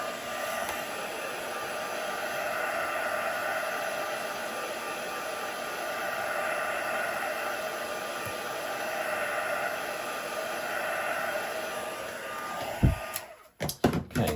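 Heat tool blowing steadily as it dries distress oxide inks on a card and work surface, a close, continuous whooshing hum that cuts off near the end with a few clunks of handling.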